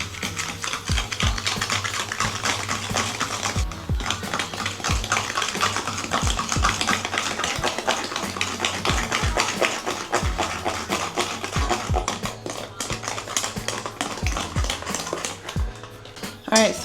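A whisk or mixer works egg yolks and sugar for homemade eggnog in a home kitchen, giving a steady rhythmic clicking and rattling against the bowl that carries on for the whole stretch without letup.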